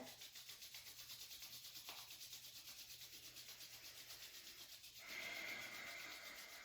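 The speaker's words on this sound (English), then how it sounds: "Rub your palms together." Two palms rub quickly together in a steady, rhythmic swish that stays faint and close, growing slightly brighter near the end.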